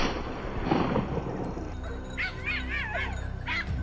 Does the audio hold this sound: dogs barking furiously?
yes